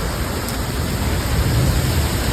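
Heavy rain pours steadily during a thunderstorm in a village, a dense continuous roar of broadband noise with no distinct thunderclap standing out, loud and close throughout.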